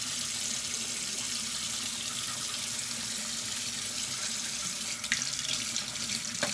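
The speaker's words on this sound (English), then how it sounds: "Hold on, I gotta rinse up my sink." Tap water runs steadily into a bathroom sink as it is rinsed, a constant close splashing hiss with no voices.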